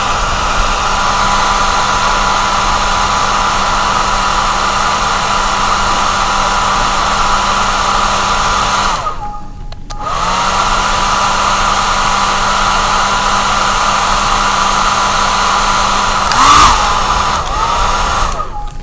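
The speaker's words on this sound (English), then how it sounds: "hair dryer." A hair dryer blows steadily on wet paint, a loud continuous whirring drone that cuts out briefly midway, then starts again and keeps running to the end.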